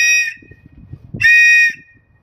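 A safety whistle on a winter fishing suit gives two loud, shrill blasts, a short one then a longer one, with faint rustling and handling noise between them.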